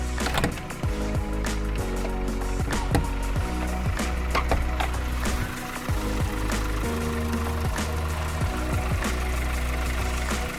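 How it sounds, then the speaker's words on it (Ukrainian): A 2004 Volkswagen Golf IV 1.4 MPI petrol engine idles steadily and evenly nearby, a continuous low hum with light mechanical ticking throughout and no talking. "покажу вам, що двигун працює рівненько"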